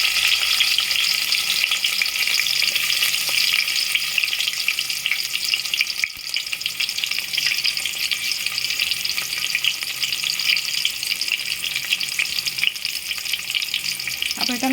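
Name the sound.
tomatoes frying in hot oil with potatoes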